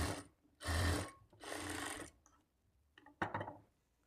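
A sewing machine stitches folded lining cloth for a blouse, running in two steady bursts and then a few short stuttering runs, close by with quiet pauses between.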